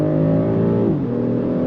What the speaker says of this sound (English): we're gonna go on throttle here from a dead stop